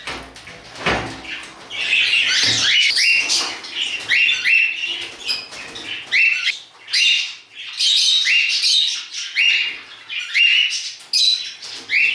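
Budgerigars in a cage chirp and squawk in quick overlapping bursts, lively and fairly close, with brief lulls between flurries of chatter.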